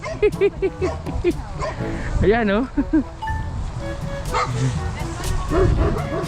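A big dog barks and yips in repeated short bursts close by, mixed with excited chatter from several people talking over it.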